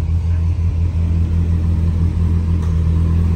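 A street-legal twin-turbo Dodge Viper race car engine running steadily nearby, a loud, even low rumble with no revving.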